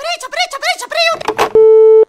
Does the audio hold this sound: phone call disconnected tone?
yes